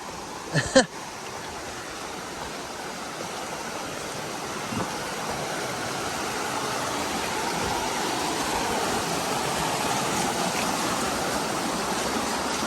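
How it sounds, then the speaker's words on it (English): Steady rushing water roars continuously from a waterfall on the Appalachian Trail, heard from nearby, with a couple of brief knocks near the start. "Almost to the falls."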